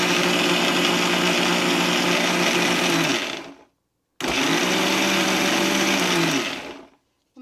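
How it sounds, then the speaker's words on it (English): A kitchen grinder blends coconut chutney ingredients in two loud, close bursts of whirring motor noise, each lasting about three seconds and separated by a brief silence, with a third burst just starting at the end. "So I'm going to just, grind it again."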